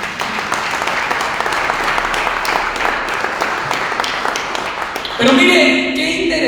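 A church congregation claps steadily during a Sunday sermon, a dense wash of applause that swells louder near the end, with some voices mixed in.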